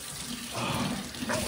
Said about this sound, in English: John, this water needs to get colder.